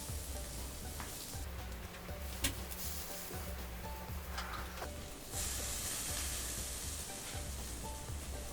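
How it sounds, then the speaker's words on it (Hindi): Faint, steady sizzling of stuffed bitter gourd frying in a pan, a soft continuous hiss with occasional small pops. "ये करेले भी देखिए बढ़िया पक रहे हैं"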